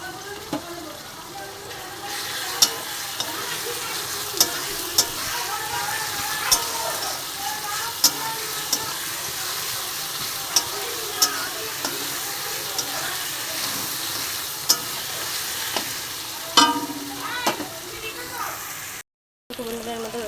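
Chilli paste and chopped chillies sizzling in a pan, a steady close fry broken by sharp clicks of a spoon against metal as they are stirred, with a short silent gap near the end.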